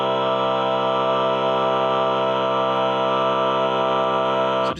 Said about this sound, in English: if I played that now with the equal tempered version, the piano tuned version, it sounds like this.